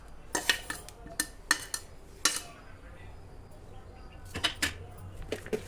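Mashed boiled potato is stirred with onion and green chili in a bowl, giving a handful of sharp scraping clinks of a utensil against the dish in bursts with pauses between, fairly near and moderately loud.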